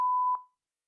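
A single short electronic workout timer beep sounds, a clean steady tone lasting under half a second before cutting off into silence.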